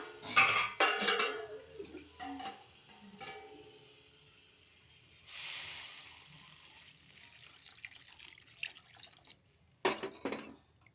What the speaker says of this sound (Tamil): வதக்கினதுக்கப்புறம் இப்போ தண்ணி ஊற்ற போகிறோம்